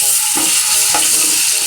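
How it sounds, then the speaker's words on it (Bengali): Ginger paste and onion fry loudly in a pan for a mutton biryani, a close, steady sizzle broken by about three scraping stirs of a spoon. "এটাকে একটু ভেজে নিব, আদা আর পেঁয়াজটাকে"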